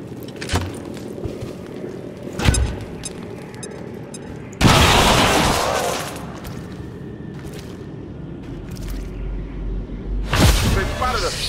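Grenade blast and gunfire in the tactical video game XCOM 2: War of the Chosen, sharp shots crack out early, then a loud broad explosion rumbles and fades, followed by scattered further bursts, with voices heard talking in between.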